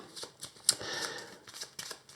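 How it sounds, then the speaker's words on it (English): Marvel Champions game cards being shuffled by hand, a quick series of soft riffling bursts and slaps repeating over about two seconds, close and fairly quiet. "I'll pick these and shuffle them and pick one at random"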